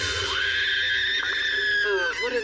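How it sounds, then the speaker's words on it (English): A high, shrill cat-like scream from an anime English dub holds a long wavering tone and then breaks into shorter wails near the end. It sounds close and loud. "I've heard this cat-like scream before."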